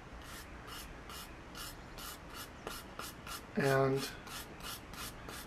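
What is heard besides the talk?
brass and steel brushes scraping dry softwood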